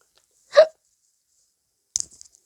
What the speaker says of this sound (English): Sorry, I hiccup a lot.